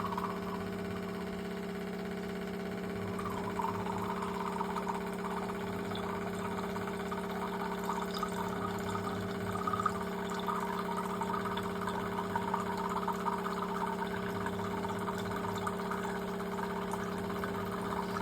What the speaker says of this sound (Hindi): हम गिलास में थोड़ा पानी रख लेते हैं टीडीएस चेक करने के लिए